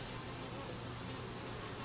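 A steady insect hum fills an opened beehive, bees on the lid and top board buzzing continuously at low volume against a faint background.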